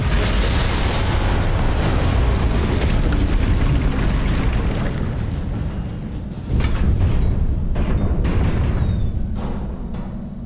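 Incendio fire spell cast in the Hogwarts Legacy video game, a loud roaring whoosh of flame with booming bursts that swells again midway and then fades, with no talking.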